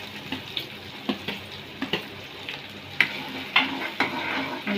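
Green chili, ginger and garlic crackle and sizzle in hot oil in a kadai, with a steady frying hiss broken by sharp spatters and spoon-stirring clicks, close and fairly loud.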